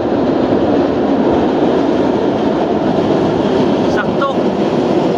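A train rumbles steadily across a long bridge, the Vasco da Gama bridge, heard from a ship as a continuous loud roar with faint rail squeals near the end; a voice speaks briefly over it.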